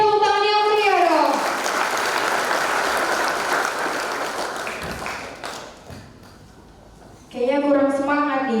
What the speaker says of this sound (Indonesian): Berikan tepuk tangan yang meriah dong.